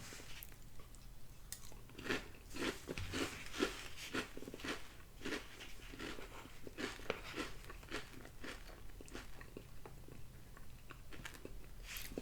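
Close, quiet chewing of Magic Spoon cocoa protein cereal in milk, soft wet crunches repeating in a steady rhythm with faint spoon and bowl clinks, no talking.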